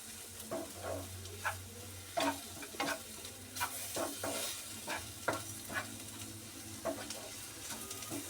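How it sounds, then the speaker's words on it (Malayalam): Spice powder sizzles in a hot pan while being stirred, a constant frying hiss broken by repeated scraping clicks of the spoon, close and steady with no talking. "അപ്പോൾ ഈ പൊടി ഇതിൽ കിടന്ന് ആ പച്ച ഒന്ന് മാറി തരട്ടെ നല്ലതുപോലെ ആ പച്ചപ്പൊന്ന് മാറുന്നത് വരെ ഇളക്കി കൊടുക്കുക"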